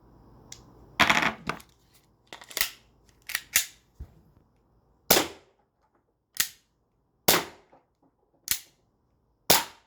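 A CO2 gas pistol fires a series of sharp, close shots as the magazine is emptied, starting with a quick cluster of pops and then settling into single cracks spaced about a second apart, with near silence between them.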